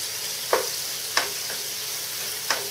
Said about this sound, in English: So I'm going to saute these onions until they're clear, or at least milky